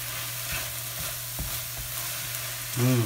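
Pad thai with scrambled egg pieces tossed in a hot pan: a steady loud sizzle with a few soft stirring knocks, and a brief low hum near the end.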